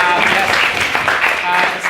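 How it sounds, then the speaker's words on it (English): Audience at a formal drug-decriminalisation debate claps, a dense steady patter of many hands with some voices mixed in, moderately loud and close throughout. "I think they should get a round of applause as well."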